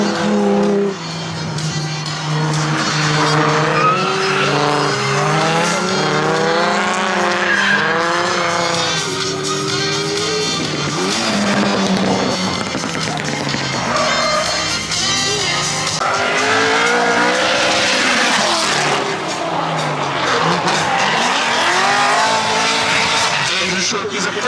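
A 1JZ turbo-powered Nissan S13 race car runs on track at a CSCS event at Cayuga, with engine roar and tire squeal from the racing cars mixed beneath near-continuous loud announcer commentary throughout.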